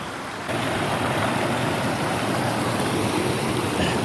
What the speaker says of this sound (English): there's all these little streams and these like mini waterfalls all over